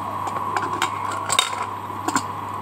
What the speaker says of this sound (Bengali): এবার আমি সিটিটা লাগিয়ে দিচ্ছি।